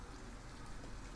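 Rain falls steadily in the video game Detroit: Become Human, an even, dense patter on surfaces that stays constant throughout, with no voices over it.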